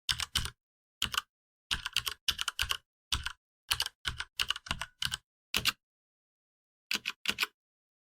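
Close computer keyboard typing comes in quick clustered bursts of sharp clicks separated by silent gaps, with a long pause before a final pair of taps.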